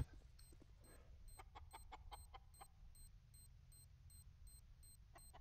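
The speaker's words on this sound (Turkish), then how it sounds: "Tavuk ötüyor." Chickens cluck in a CS:GO match on the Inferno map, a quick run of short, faint clucks in the distance over a low game hum.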